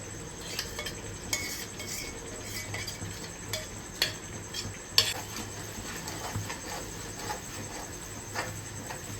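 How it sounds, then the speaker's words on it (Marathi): Metal spoon stirring gravy into cooked tomatoes in a pan for a fresh turmeric vegetable dish, with repeated soft scrapes and clinks against the pan over a low background hum. "आता आपण इथं ह्याची ग्रेव्ही घालणार आहोत"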